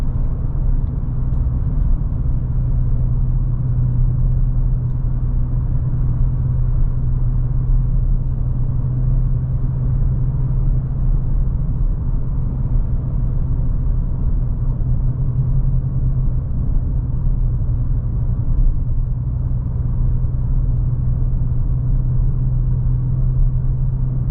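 A steady, low engine rumble fills the cabin of a Ford F-150 Raptor with the 37 Package throughout, even and droning with no talk, like riding inside a truck at cruising speed.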